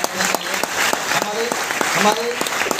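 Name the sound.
audience applause at a function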